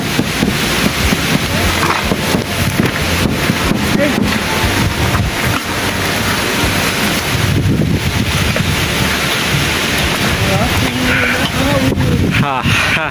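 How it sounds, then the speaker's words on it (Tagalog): Strong wind roars continuously against the microphone with rain in a stormy outdoor setting, a dense, loud, unbroken rush and buffeting, with someone speaking over it. "Sobrang lakas ng hangin at ulan dito."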